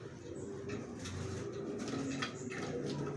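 Racer pigeons in a loft coo softly in low throaty rolls, a few overlapping calls at close range over faint background noise.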